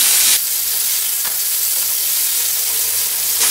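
Small anchovy (nethili) fish frying in a pan with little oil, a steady loud hissing sizzle that is close and continuous, with a brief stir near the start.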